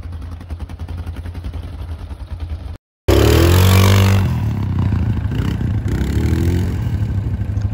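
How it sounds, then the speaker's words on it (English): Dirt bikes on a desert safari in Dubai: a steady engine drone, a brief cut, then a loud close roar of engine and rushing wind that continues unbroken to the end. "we about to get on these dirt bikes"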